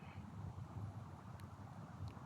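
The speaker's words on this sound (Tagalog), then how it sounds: "Mahangin dito." Steady wind blows through an outdoor garden area at a workplace in Saudi Arabia, a low continuous rumble with faint gusty rustling, fairly quiet and with no voices.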